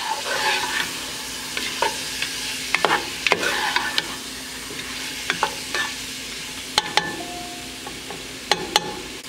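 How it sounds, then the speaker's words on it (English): A spoon scrapes and clacks intermittently against a pot as beef browns and sizzles for an Irish stout stew, with scattered clicks over a steady low frying hiss, close and moderately loud, no talking. "So I'm just gonna give that a stir."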